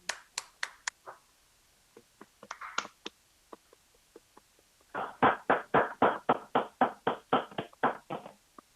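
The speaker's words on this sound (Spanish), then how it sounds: "Solicito con todo comedimiento un gran aplauso para ellos." Hands clapping after a request for applause at a State Council panel: a few sparse, scattered claps and taps at first, then a near, loud run of about a dozen evenly spaced claps.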